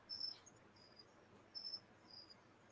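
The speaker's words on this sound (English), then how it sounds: "But it's actual live crickets" Live crickets chirp faintly outdoors on a porch in short, high, trilling bursts, repeating in an uneven rhythm against a quiet background.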